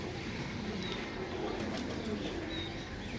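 Slate pigeons coo softly in low, rolling calls against a steady background hiss, with a couple of faint chirps over a few seconds.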